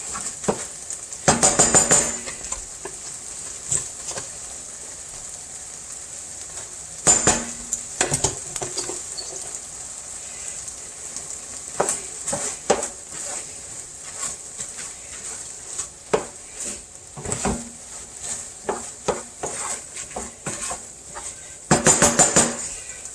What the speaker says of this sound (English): And now we add our rice.